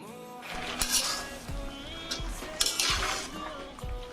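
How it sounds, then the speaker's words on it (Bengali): Tender leafy greens are turned and mixed in a pan with a utensil, giving soft scraping clinks at a steady, unhurried pace under a faint background sizzle, close and clear with no talking. "আমার শাকটা আমি উল্টিয়ে পাল্টিয়ে একটু মিক্স করে নিলাম নাড়াচাড়া দিয়ে"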